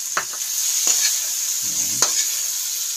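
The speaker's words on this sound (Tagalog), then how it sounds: "mix lang natin sa ating ampalaya" Bitter gourd stirred in a pan with boiled shrimp makes a few sharp scraping clatters of a spoon over a constant faint sizzle, close by and without talk.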